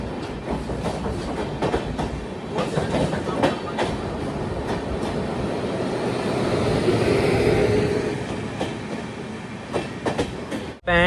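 The Himsagar Express rolls along the rails with a continuous rumble and rhythmic clickety-clack of wheels over joints, heard from inside the coach, swelling louder toward the end before a sudden cut.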